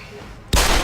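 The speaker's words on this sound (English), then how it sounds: "fucking gunshots!" Silence breaks abruptly into a loud, continuous burst of rapid gunfire in the video game Deus Ex: Human Revolution that dominates the rest of the moment.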